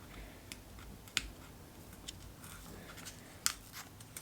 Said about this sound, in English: So now I'm just going to peel back the layers